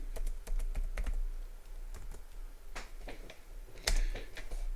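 Rapid clicking keystrokes on a computer keyboard while HTML code is typed, irregular bursts of taps with one louder cluster near the end, close and fairly quiet.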